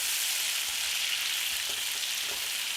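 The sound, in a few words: potatoes frying and charring in a pan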